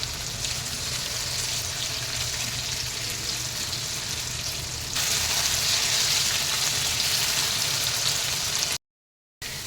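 Mixed vegetables and onion frying in a kadhai for kadhai veg, a steady loud sizzle throughout that swells brighter midway as the pieces are tossed, then cuts off briefly near the end.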